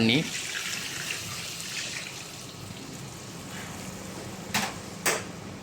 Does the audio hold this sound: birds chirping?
no